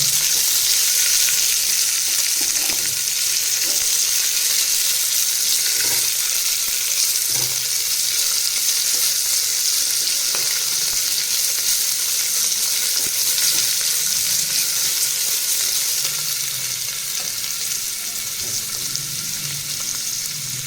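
Onions frying in oil in a pan until golden brown for a vegetable pulao, giving off a steady, loud, bright sizzle throughout with faint scrapes of stirring and no voices.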